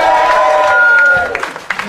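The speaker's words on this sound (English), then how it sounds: "Can we give a huge round of applause?" Audience applause and cheering fill a comedy club, a dense steady clapping that stays loud, then thins and tapers into scattered claps toward the end.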